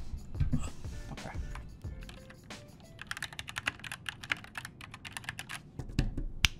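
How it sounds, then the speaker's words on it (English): Someone types on a computer keyboard up close: a run of crisp, irregular clacking keystrokes with brief pauses, then faster bursts of clicks toward the end. "I'll leave you on some ASMR of that keyboard"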